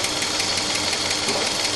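A Chevrolet Opala engine idles steadily while its RPM is measured and its idle speed adjusted, a continuous even running hum with a faint knocking rhythm throughout, close and fairly loud, with no voices.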